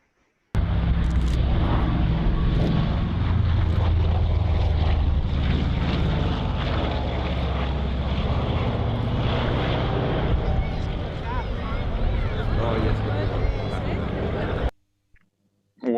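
The propeller engines of a Lockheed Constellation airliner drone loudly and steadily at close range, a sustained roar that cuts off abruptly near the end, with people talking over it.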